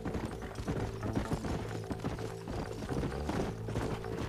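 Horse hooves in the Red Dead Redemption video game clip-clop steadily in a fast gallop, dense and continuous, layered with game mechanisms and background score, without speech.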